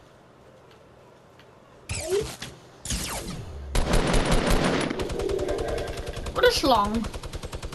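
Minigun fire in a video game: a sustained, rapid stream of loud, close gunfire that continues to the end, with excited voices talking over it.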